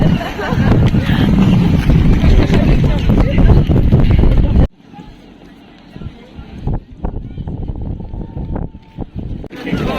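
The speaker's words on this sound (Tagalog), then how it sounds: "Mainit, may araw, pero malakas yung hangin." Strong wind buffets the microphone outdoors by the harbour in Dieppe on a sunny day, a loud rumbling roar for about five seconds that then cuts out, leaving quieter outdoor sound with scattered knocks and a speaking voice.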